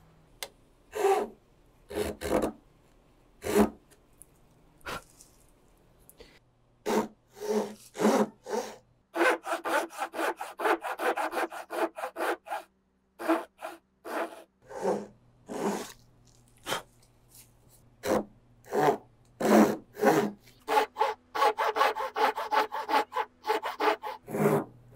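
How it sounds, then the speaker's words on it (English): A hand saw cutting wood for a cogged lap joint, rhythmic rasping back-and-forth strokes in bursts with short pauses between them, close and clear with no talking. "I can cut it with the saw."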